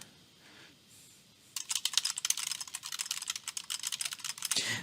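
Typing on a computer keyboard while writing a paper in Word: a quiet start, then a dense, steady run of close, crisp key clicks that continues to the end.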